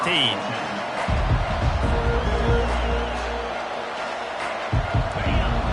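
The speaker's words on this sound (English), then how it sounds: "This crowd bringing an ear-splitting welcome to their visitors." Loud stadium crowd roaring at a college football game between Miami and Virginia Tech, a sustained dense roar with a broadcast commentator talking over it.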